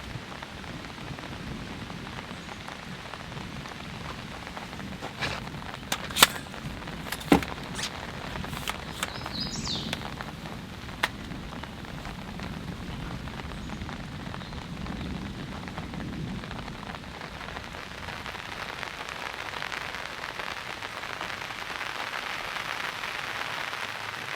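Light rain sprinkles steadily in a continuous soft hiss outdoors, with a few sharp drop ticks and faint distant rumbles, fairly quiet and without voices.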